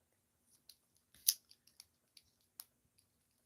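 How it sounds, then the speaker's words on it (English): Mini keychain multi-tool scissors snipping in a quiet room, a series of light, sharp metallic clicks at irregular intervals, one louder snip in the middle. "little mini scissors"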